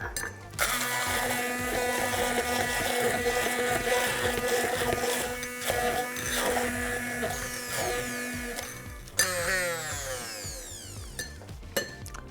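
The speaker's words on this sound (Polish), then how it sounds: "wszystko to miksuję ręcznym mikserem" A hand blender whirs loudly and continuously, its motor pitch wavering as it churns, then cuts off briefly before a short second burst.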